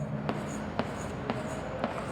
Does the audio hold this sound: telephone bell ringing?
no